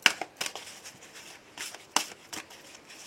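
Oracle cards from an Aloha oracle deck being shuffled for a reading, a series of soft papery riffles and flicks in short bursts, close and fairly quiet, with no talking.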